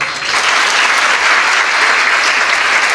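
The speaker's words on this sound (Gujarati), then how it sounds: "આ મા બાપને એક વખત તાળીઓથી વધાવો" Loud, dense applause from a seated audience at a motivational talk, honoring parents of daughters, a steady wash of many hands clapping close and evenly for three seconds.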